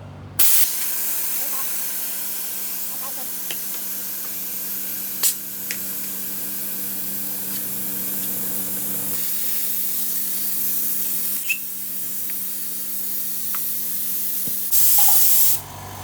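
Air rushes out of a tire being deflated, a loud, steady, close hiss that starts abruptly, holds almost unchanged for about fourteen seconds with a few faint clicks, then cuts off into a brief burst.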